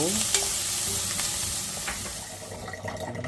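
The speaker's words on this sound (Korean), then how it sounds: "당근을 채 썰어서 볶고" Julienned carrots stir-fried with meat, green onion, garlic and sesame oil for pine mushroom porridge make a loud, continuous close sizzle with faint scraping stirs throughout, no voices.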